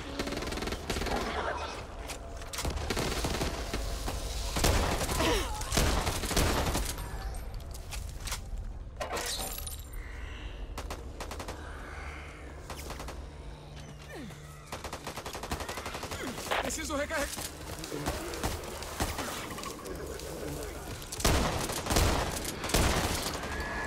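Rapid bursts of video game gunfire, some sustained like machine-gun fire, repeat loudly throughout with short pauses, set in an adult horror-style shooter.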